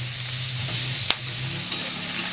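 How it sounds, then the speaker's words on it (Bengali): Cabbage leaves fry in hot oil with a steady bright sizzle, close and loud, while a utensil stirs through them with a few short scraping knocks. No voices. "আর এটাকে সুন্দর করে ভালো করে ভাজা করে নেওয়া হবে"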